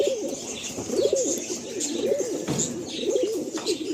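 Andhra pigeons coo repeatedly inside a loft, a rhythmic run of throaty rolling calls, close and clear over a faint background of chirps and rustle.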